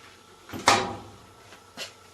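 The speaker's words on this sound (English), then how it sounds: "open the door on the dryer" A latch clicks and the door of a Performa clothes dryer swings open with a short scrape, followed by a softer click a moment later. Close and fairly quiet.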